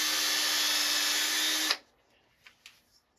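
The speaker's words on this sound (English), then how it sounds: "So we're going to drill 2 holes through this." Electric drill boring a hole through a board in an arcade cabinet, a loud steady motor whine for under two seconds that cuts off abruptly, followed by a couple of faint clicks.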